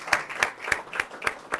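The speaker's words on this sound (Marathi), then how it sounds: "तर डबल टाळ्या वाजूया" A church audience welcomes guests with double claps: six evenly spaced bursts, each a quick pair of hand claps, sounding crisp and fairly close against a quiet background.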